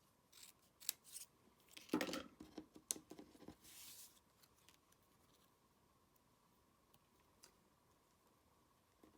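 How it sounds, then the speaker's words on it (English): Scissors snip through a paper card straight down the middle, a few quiet, crisp cuts and rustles spread unevenly over several seconds, trailing off into near silence. "I'm actually going to cut this straight up the middle."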